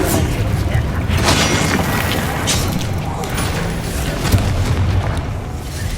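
Spell explosions and magic effects booming in the video game Hogwarts Legacy, a dense, loud rumbling wash of blasts and crashes with a few sharper impacts, continuous throughout.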